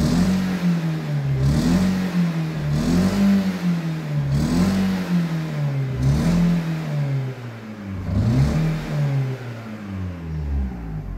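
An Opel Astra Bertone car engine running with no muffler is revved repeatedly, loud rasping blips rising and falling about every one and a half seconds, close up with no talk.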